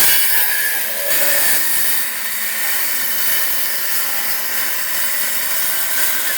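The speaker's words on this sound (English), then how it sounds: "Did you just cut through the bucket?" A saw cuts steadily through a plastic bucket during window installation in a wall opening, giving a continuous rasping, bright noise that runs for several seconds at close range with no voices.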